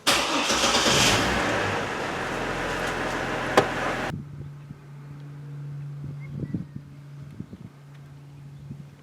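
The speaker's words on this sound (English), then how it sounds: "Go ahead and start the truck." A Chevrolet Trailblazer truck cranks and its engine fires up loudly, roaring for about four seconds before cutting abruptly to a quiet steady idle hum with faint clicks.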